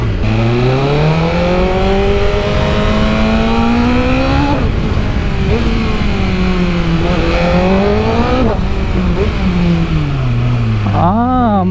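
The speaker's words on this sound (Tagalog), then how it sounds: "hindi masyado maingay yung motor niya dahil canister lang yung pinalitan" A BMW M1000RR sport motorcycle with a replaced canister runs loud and close, its pitch rising and falling in repeated revs before dropping back to idle.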